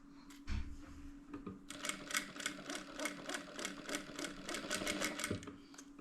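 A sewing machine stitching a fabric seam for a small floral zippered pouch, running in a steady rapid mechanical chatter for several seconds after a brief start, close and alone.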